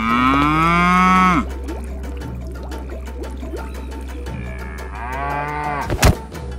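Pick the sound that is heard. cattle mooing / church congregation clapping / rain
cattle mooing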